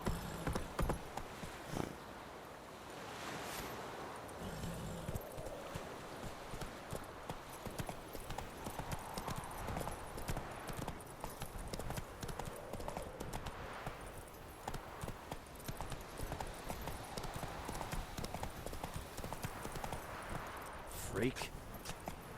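Hoofbeats of a horse in the video game The Witcher 3 clip-clop in a steady rhythm under game sounds and a man's speech.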